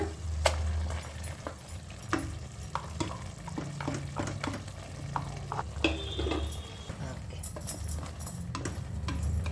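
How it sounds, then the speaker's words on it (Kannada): Chicken in a pan being stirred through masala, with repeated scraping and clinking strokes over a soft, steady sizzle, fairly close and without talk. "ಈಗ ಚಿಕನ್ಗೆ ಇದನ್ನು ಮಿಕ್ಸ್ ಮಾಡ್ಕೊಳ್ಳೋಣ."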